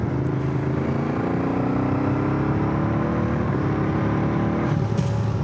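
Engine drone of a road-legal Spanish motorbike cruising on the road, a close, steady hum with rising harmonic tones as it accelerates through gears, plus wind buffeting and no voices.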